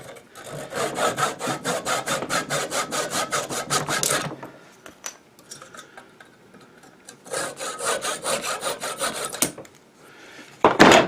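Hand saw cutting through a wooden hammer handle, a steady run of rasping back-and-forth strokes that breaks off for a few seconds and then starts again, close and loud, with no talking.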